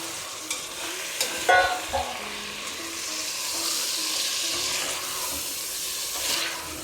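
Marinated chicken coated in lemon, turmeric and salt fries in hot oil in a pan, giving a soft, continuous sizzle broken by a few sharp clinks of stirring near the start.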